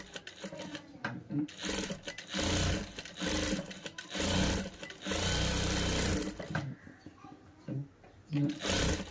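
A sewing machine runs a double stitch on a child's frock made from an old saree, in repeated close bursts of motor hum that start and stop, with someone talking between and over the runs.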